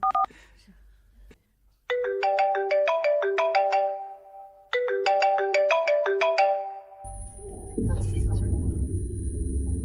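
A phone rings with a bright melodic ringtone, two loud repeating phrases of plinking notes, followed by a rumble and a thin high tone.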